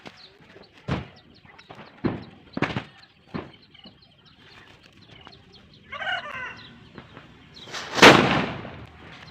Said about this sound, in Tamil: இந்த லட்சுமியும் வெடிச்சிருச்சு பாருங்கள்